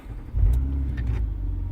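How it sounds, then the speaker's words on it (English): A 2014 Nissan Maxima engine turns on, its low rumble swelling suddenly and then settling into a steady, close idle drone with no talking. "I'm going to turn the car on actually."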